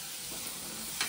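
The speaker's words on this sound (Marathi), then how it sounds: "आईनं मस्त फोडणी गेलेली आहे." Spice tempering (phodni) sizzling in a pan, a steady quiet hiss of frying with a brief louder crackle near the end, heard alone.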